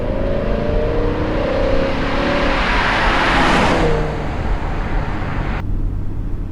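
A BMW M5 Touring's 5-litre V10 revs hard, swelling to a loud high-pitched peak and then falling away, heard up close and alone.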